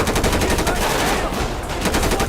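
Rapid automatic gunfire in the video game GTA V rattles as a loud, dense stream of shots, continuous for the full few seconds.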